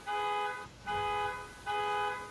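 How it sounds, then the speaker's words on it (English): A car alarm goes off during a tabletop game session, sounding three loud, evenly spaced bursts of a steady electronic tone about a second apart, with no one speaking over it. "Arta Simper forgets to turn off his car alarm"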